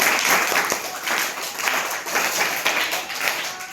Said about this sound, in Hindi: ताली मारो